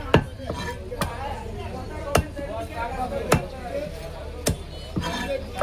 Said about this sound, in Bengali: এখন এটার ফ্রাই কাটিং দিবে রেদওয়ান